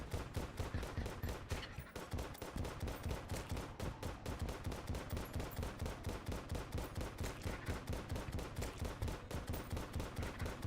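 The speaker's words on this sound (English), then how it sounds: "exploding bullets are fantastic" Exploding bullets fire nonstop in a video game, a rapid, evenly spaced stream of loud, punchy bursts that continues for around ten seconds without any voice.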